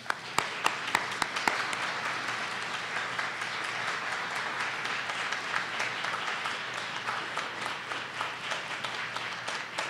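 Sustained applause from an audience at a Ferguson Commission public meeting, dense and steady throughout with a few sharper claps standing out near the start.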